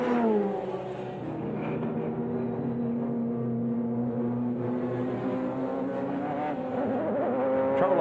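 A race car engine at Watkins Glen during an IMSA GTP prototype race, sustained and loud with rising and falling harmonic revs as the spun car's driver blips the throttle, continuing steadily for several seconds without talk.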